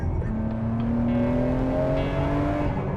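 Nissan Skyline R34 tuned to around 1,000 horsepower, engine revving hard and accelerating with a rising, continuous roar that climbs steadily in pitch, loud and close.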